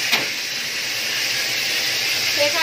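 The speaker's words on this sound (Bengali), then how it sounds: "সেখানে ফোড়ন দিয়েছে আর কি ছিটছে, ওই জন্যই আরো বেশি ছিটছে" Hot oil spitting and sputtering in a pan after spices are added for tempering, a steady close hiss with a few brief crackles.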